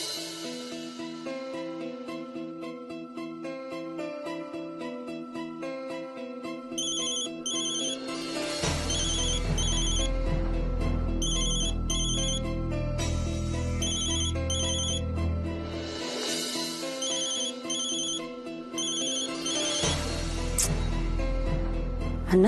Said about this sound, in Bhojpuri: हमार फोन नहीं क्यों उठा रहा बा?